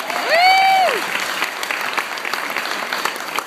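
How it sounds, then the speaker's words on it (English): Wedding guests giving a round of applause for the couple's parents, filling the room with steady clapping. A brief rising-and-falling whistle-like tone sounds over it near the start. "So a big round of applause for them as well."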